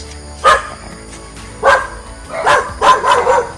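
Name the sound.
dog barking in a cage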